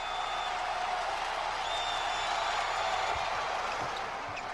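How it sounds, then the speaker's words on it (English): A 1995 NBA arena crowd turns on Michael Jordan with a continuous, dense roar of voices that holds steady throughout, thick and loud and with no single voice standing out. "The crowd starting to really get on him now."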